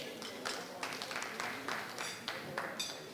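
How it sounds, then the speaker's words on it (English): Applause at a financial services breakfast meeting, scattered hand claps rising and falling in several bursts over a murmur of voices in a room. "Clap for them."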